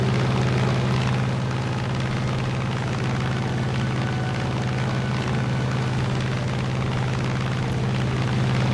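An F4U-1a Corsair's piston engine drones in War Thunder, a steady, loud propeller roar with a deep hum that holds throughout without a break.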